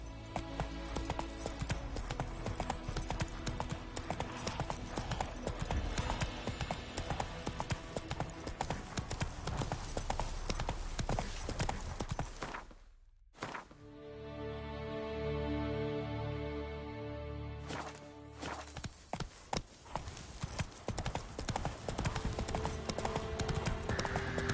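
Roach the horse clip-clops along in The Witcher 3, a dense, continuous run of hoofbeats that halts briefly for a tonal pause before the galloping rhythm resumes, loud and close throughout.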